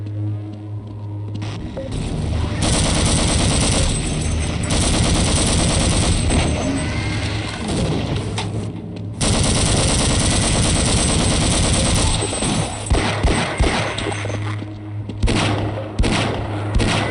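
Rapid, loud automatic gunfire from the video game Half-Life: Blue Shift, sustained bursts rattling on for several seconds, breaking off briefly, then resuming before ending in a few scattered shots.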